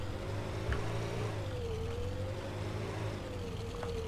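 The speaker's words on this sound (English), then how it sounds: "It's fine, because the Lego engine still works." A Lego engine in the Brick Rig video game drones and revs steadily, its pitch rising and falling slowly. It is continuous and fairly loud, with no talking.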